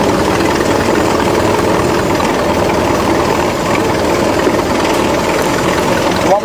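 A 1926 Model T Speedster race car driving through swampy mud, its engine a loud continuous rumbling drone with dense low churning noise close up and no clear breaks.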